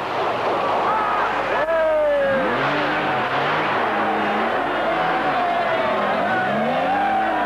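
Rally cars race on the 1980 Monte Carlo Rally, among them an Alfa Romeo and a Porsche, with loud engines revving up and down and rising and falling pitch as they pass, under continuous French commentary.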